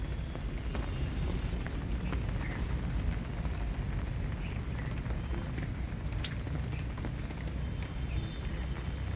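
Steady rain pours down on an open natural farm field with turmeric plots, a close, continuous hiss with scattered drops and no voices.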